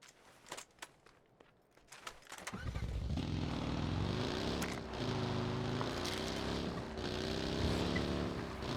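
A car drives in PUBG, its engine starting up after a few footsteps and then holding a steady, close, droning rumble with slight pitch swells, with no talk over it.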